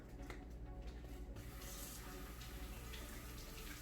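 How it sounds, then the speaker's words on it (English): Tap water runs steadily over a pepper being rinsed in a sink, a continuous broadband splashing stream that shifts slightly in tone partway through as the pepper moves under the flow. "I'm gonna give it a quick rinse."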